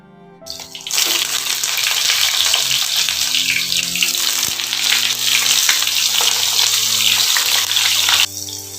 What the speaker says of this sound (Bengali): বেগুনগুলোকে ভেজে নিচ্ছি